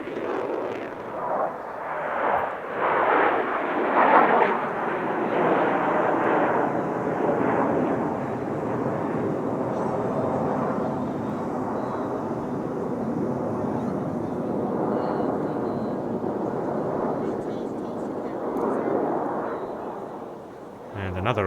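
Thunderbirds jet fighters perform at the California International Airshow, a sustained, loud roar of jet engines swelling and fading over about twenty seconds, with a commentator's voice occasionally audible beneath.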